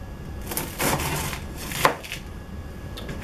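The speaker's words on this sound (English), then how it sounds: "just a few more slices, one this way" A knife slices through rice cereal treats into squares, giving a few soft crunchy cuts spaced out over a few seconds, close and moderately quiet.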